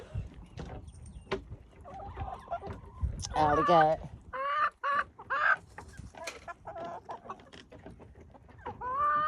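Hens and a rooster cluck and call in a backyard chicken courtyard, bursts of squawking close by amid rustling, while a person speaks briefly.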